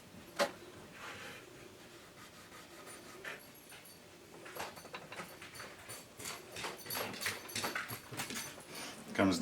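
A dog comes near in a workshop, panting and shuffling with paw and movement noises that grow louder toward the end, alongside scattered handling sounds.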